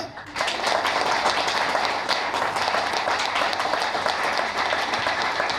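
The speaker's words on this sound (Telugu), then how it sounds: "చప్పట్లు కొట్టమంటున్నా అంటే, మన కోసం కాదు, పక్కన ఎవరైనా పడుకుంటే లేస్తారని" Loud, continuous applause from a large audience at a religious talk fills the whole stretch, a thick even wash of many hands clapping close and steady.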